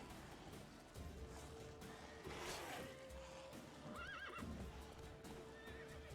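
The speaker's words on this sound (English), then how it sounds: "I have a horse here." A horse in The Witcher 3 video game neighs and whinnies twice, with hooves clip-clopping beneath, the calls rising clearly above a busy, quiet game soundscape.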